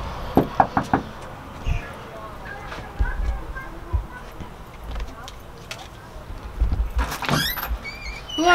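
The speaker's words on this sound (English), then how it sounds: "so we're gonna knock right now." Knocking on a house door, a quick cluster of sharp raps near the start and another burst later, mixed with people talking and outdoor background noise.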